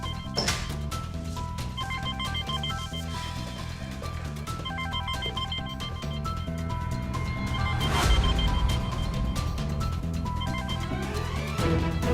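A telephone rings repeatedly inside a home in a drama scene, its electronic ringtone trilling in steady bursts over a continuous music score from start to finish.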